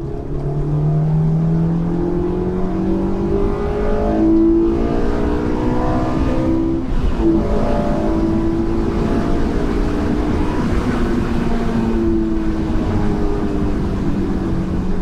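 A Honda S2000 engine pulls hard and steadily in third gear from about 4,000 RPM, its pitch climbing as it revs, loud and close with road rumble underneath.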